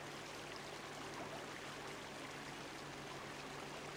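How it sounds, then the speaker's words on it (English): Continuous rushing water pours steadily, a broad even hiss without breaks, heard from a short distance. "Oh, it's a waterfall."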